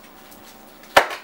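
A single sharp chop of a knife cutting a garlic clove in half, one close, crisp knock near the end after a quiet stretch.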